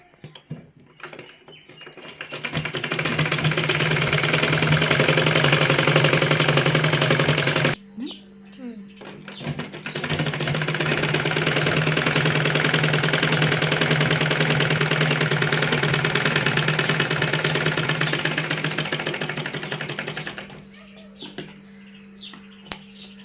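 A sewing machine stitching a lungi, its motor whirring loud and close in two long continuous runs, separated by a short pause, with brief moments of talking before and after.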